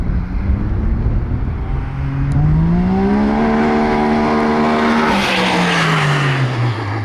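A big-turbo Can-Am X3 side-by-side accelerates hard, its engine note climbing steadily in pitch through the gears, loud and close, then dropping away as it passes.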